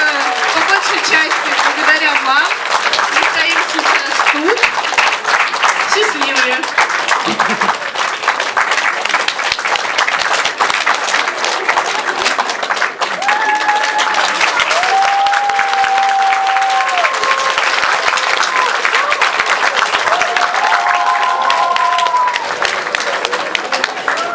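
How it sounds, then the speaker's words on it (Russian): An indoor audience keeps up loud, sustained applause that fills the room for the whole stretch, with voices and brief calls rising now and then above the clapping. "давайте будем им бурно аплодировать"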